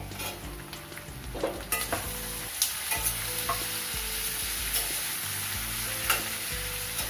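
Green chili and tomatoes fry in a pan with a constant loud sizzle, punctuated by several spatula scrapes and clinks as the mixture is stirred, with a low hum running underneath.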